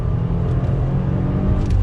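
A Subaru WRX Series Grey engine pulls hard in second gear, a loud, deep, steady in-cabin rumble that builds slightly in strength, with no talk over it.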